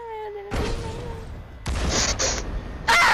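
Cannon launching a player in a video game deathrun map fires with sudden loud blasts, with short bursty bangs amid game noise and a brief whoosh near the end.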